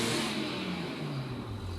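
Car engine revving in the GTA 5 video game, a steady, fairly loud mid-pitched drone that rises and settles over a couple of seconds, with no talk.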